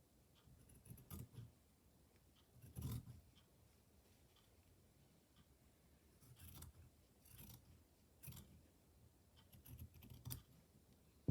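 Big scissors trim the edge of a quilt in soft, close snips spaced irregularly, faint against a quiet room background.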